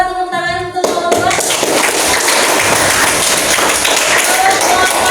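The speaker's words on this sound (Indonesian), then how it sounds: "Coba tepuk tangan untuk kelompok 2." A classroom full of students claps for the second group, a dense burst of applause that starts after a moment of music-like tones and continues steadily and loudly to the end.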